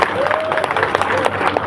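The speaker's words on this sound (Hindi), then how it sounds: "सुंदर तालियों से उनका स्वागत करिए।" Applause from a seated audience welcoming a guest at a religious Bhagavat discourse gathering, mixed claps with a few cheers and a voice talking over it.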